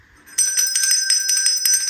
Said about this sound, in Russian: А ну-ка позвони в колокольчик.